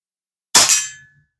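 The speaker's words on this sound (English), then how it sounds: "We'll do about 5 shots right here." A single air rifle shot firing a Daisy flat nose pellet: one sharp, loud metallic crack that rings out briefly and decays within about half a second, surrounded by silence.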